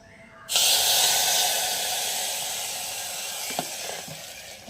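Freshly fried mustard seeds are poured into a jackfruit curry, setting off a sudden loud sizzling hiss that starts abruptly, then slowly fades over several seconds, with faint clinks near the end.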